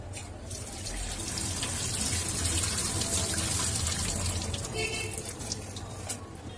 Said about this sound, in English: First of all, we will wash neem leaves.